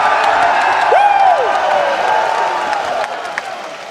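A crowd at a CS2 LAN esports event applauds and cheers, a loud sustained roar of clapping and whoops that slowly tapers off, with a caster talking over it.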